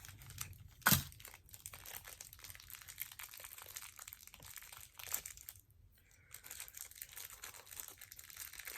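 Avon product packaging being cut open, with faint, close crinkling and rustling of plastic wrap, a sharp snip near the start and scattered soft crackles afterward in a quiet room.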